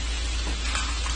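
Soy sauce hitting a hot pan of frying rice gives a loud, dense, continuous sizzle with a steady low hum beneath it and no voices.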